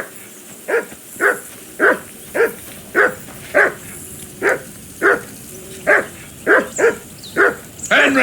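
A dog barks over and over in Kingdom Come: Deliverance II, about fourteen loud, sharp barks at a steady, slightly uneven rhythm, close by and alone over faint outdoor ambience by a riverbank.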